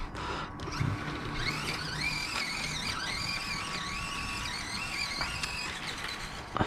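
An Exhobby 787-1 RC crawler truck drives back up, its small electric motor whining steadily with rising and falling pitch as the throttle shifts, quiet and close, with faint knocks at the start and end.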